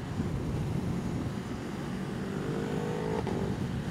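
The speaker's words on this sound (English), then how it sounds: "There's a good sounding motorcycle." A motorcycle passes on the road, heard from another rider's helmet over steady heavy wind rush and engine drone, with a brief rising engine note near the end.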